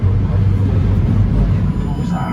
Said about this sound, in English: This is the sound of the underground.